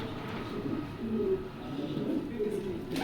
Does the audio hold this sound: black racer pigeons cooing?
yes